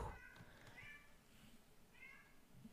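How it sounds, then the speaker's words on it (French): A cat meows in a few short, faint, high cries spaced about a second apart over a steady background hum. "Mon chat qui s'excite."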